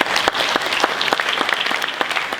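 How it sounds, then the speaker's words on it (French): Audience applause at a social-issues film festival screening, a steady wash of clapping from a crowd with sharp individual claps standing out, loud and close, with no talking over it. "David Trujillo, Fabien Hara, Nicolas Lebrun, on peut encore les applaudir."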